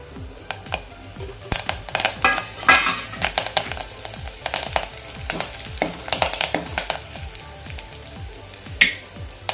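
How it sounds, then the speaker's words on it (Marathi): Asafoetida, curry leaves and cumin hit hot oil in a pan, giving bursts of crackling sizzle and sharp spattering pops with scrapes of a stirring spoon, loud and close. "इथे आपलं तेल गरम झालेलं आहे आता यामध्ये आपण हिंग कढीपत्ता आणि जिरं घालून घेऊया"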